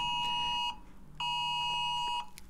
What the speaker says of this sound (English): That's not a real alarm. That's a public safety alarm here in Seattle.